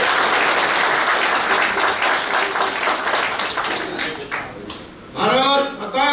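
Loud applause from a crowd at a political party joining event, dense clapping that fades slightly before voices break in near the end.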